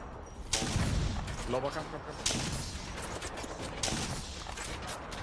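Gunfire in the Apex Legends video game: a few sharp bursts of shots crack out over several seconds, moderately loud, mixed with game effects while a player talks.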